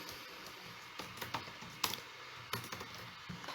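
Keystrokes on a computer keyboard while Java code is typed, coming as scattered irregular clicks and short bursts over a steady low hiss, close and fairly quiet.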